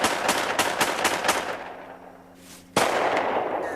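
A homemade gun fired in a forest: a series of sharp, rapid reports, then a pause and one more loud crack, outdoors and fairly close.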